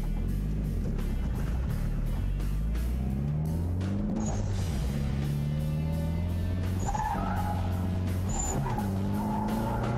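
A drift car tears through a drifting run, its engine droning and shifting pitch while tires skid and squeal in long bursts, loud and continuous throughout.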